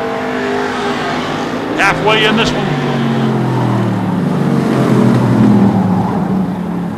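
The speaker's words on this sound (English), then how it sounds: "Heat number two for the Davis Race Cars and Components. Hobby Stockers, we are halfway." Hobby stock race cars circle a short oval track, engines roaring and revving loudly as they pass close by, with sweeping pitch shifts, while an announcer talks over the noise.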